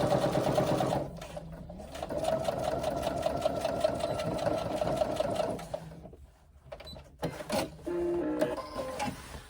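Sewing machine stitching a seam on a swim bag, a steady close mechanical whir that runs for several seconds, then stops and gives way to a few scattered clicks and handling noises.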